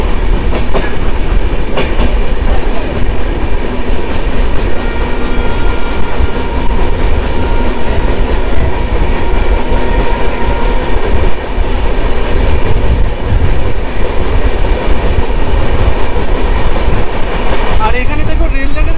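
Kanchan Kanya Express passenger train rolling along the rails past Sevoke station beside the hills, a loud continuous rumble with clickety-clack of wheels on track joints throughout, close and steady.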